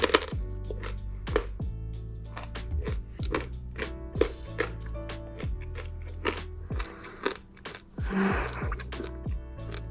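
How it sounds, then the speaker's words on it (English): Close, crunchy chewing of dark chocolate covered espresso beans with no added sugar, a steady run of sharp bites and crackles with faint breathing and mouth sounds between them. "Nothing like chewing your coffee. I really like, especially chocolate covered espresso beans."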